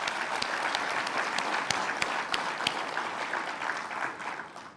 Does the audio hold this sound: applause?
yes